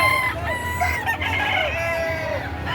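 Large roosters at a livestock auction crow in overlapping, wavering calls from several birds, mixed with clucking, nearby and fairly loud over steady low background noise.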